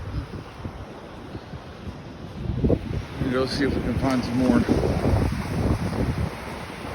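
Wind buffets the microphone along the shore at Atlantic Beach, North Carolina, with surf washing in behind it as a steady roar, and someone talks over it partway through.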